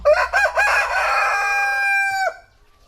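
A breeding cockerel on a durian farm crows once, loud and close: a few sharp opening notes, then a long sustained call that cuts off abruptly, with quiet background after.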